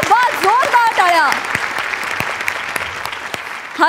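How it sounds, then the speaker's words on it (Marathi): Loud audience applause fills a comedy show stage, a dense burst of clapping with cheering voices that tapers off over a few seconds. "जोरदार टाळ्या."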